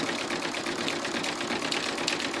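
An embroidery machine chain-stitching on cardstock runs at a steady, fast mechanical chatter, a continuous close rattling hum with no voices over it.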